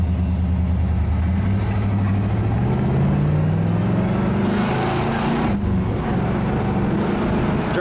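Idling rumble of a 1966 Pontiac LeMans convertible, a steady low burble whose pitch rises slightly midway, then settles, heard close and continuous without speech.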